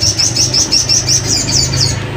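A caged songbird chirps up close in a quick, even run of about ten bright, high tweets over a low background hum.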